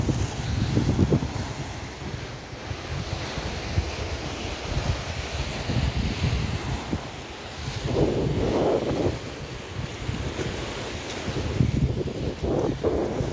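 Continuous roar of wind over the sea in Kuwait with a broad rushing wash of surf, gusts rising and falling, no voices.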